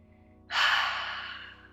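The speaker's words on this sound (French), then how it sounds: "Encore une fois, inspire." A single deep inhalation during a guided breathing meditation for calming the nervous system, a close, airy in-breath that begins abruptly and then fades gradually, with a quiet backdrop and no talk.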